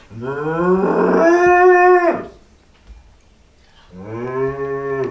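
Cattle mooing loudly twice: a long, drawn-out bellowing moo, a short pause, then a second moo trailing off, close and clear.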